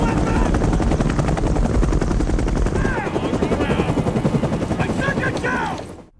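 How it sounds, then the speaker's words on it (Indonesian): An FBI helicopter in a film arrives with loud, steady rotor thumping that dominates throughout and fades out at the end, with faint tonal cries and effects layered over it. "Dari balik gunung, helikopter FBI datang untuk menangkap Bob dan Memphis."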